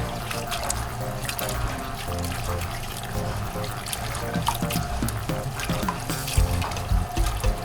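Water runs from a tap in a Calabar kitchen while Nigerian food is prepared, a steady splashing flow with trickles and pouring, under faint background talk.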